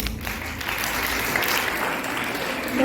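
A group of schoolchildren applauds loudly, a dense burst of clapping that holds steady for a few seconds with faint voices underneath.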